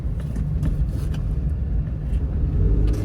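A 2010 Nissan March with a manual gearbox drives along, a steady loud rumbling road and engine noise heard from inside the cabin, with no talking.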